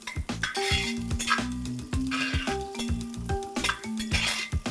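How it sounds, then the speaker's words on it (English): Chopped carrots frying in oil in a kadhai, with a steady sizzle under repeated clinks and scrapes of stirring against the metal pan, close and busy throughout. "We'll fry the carrots in oil for about a minute"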